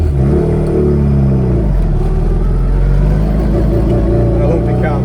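Classic Mini SPI engine with straight-cut gears and a lumpy cam, revving loudly and close with a steady, rumbling drone and rising pitch, with a voice talking over it.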